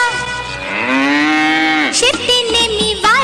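A child imitates a cow during a nursery school animal skit at an annual function, with one long drawn-out moo followed by shorter voiced bursts, close and loud.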